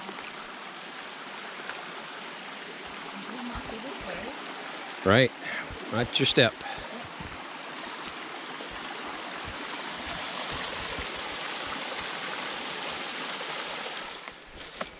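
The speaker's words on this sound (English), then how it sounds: "Ooh, got a nice little stream." A small stream runs over rocks in the forest along the Lake Superior Coastal Trail, giving a steady, close rushing wash throughout; people talk briefly partway through.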